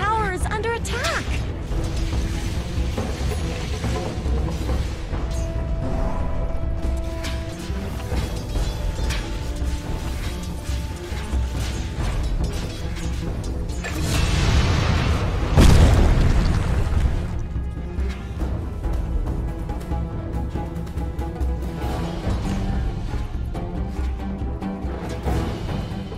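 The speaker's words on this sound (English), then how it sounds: "Dire's middle tower is under attack." Combat in a Dota 2 match as the Dire middle tower is attacked: dense spell blasts, booms and a big explosive burst midway, over constant game effects and music with voice lines.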